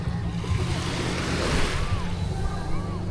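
Steady wash of sea waves and surf with wind buffeting the microphone, plus faint distant voices in the background.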